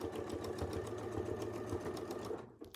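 A sewing machine runs steadily, stitching fabric with a fast, even, close mechanical chatter that stops abruptly near the end.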